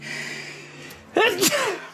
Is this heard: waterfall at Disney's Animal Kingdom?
no